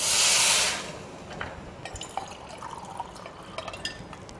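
Water poured into rice for vegetable pulao: a short bright splashing pour at the start, followed by faint drips and small liquid trickles in a quiet kitchen.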